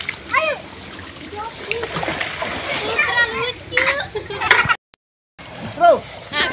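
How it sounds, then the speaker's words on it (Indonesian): Children and adults splash around while swimming in a cold spring-fed pool in Puncak Cisarua, Bogor. Bursts of splashing sit close under excited voices, with one short dropout partway through. "kali ini lagi pada berenang di sini"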